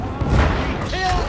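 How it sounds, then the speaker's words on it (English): A grenade explodes in the video game Darktide with a short, deep boom under loud in-game shouting and combat noise, all packed into about a second. "Grenade coming!"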